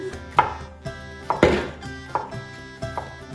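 A knife chopping food on a cutting board, about six distinct knocks at an unhurried pace over a low steady background, heard close and without speech.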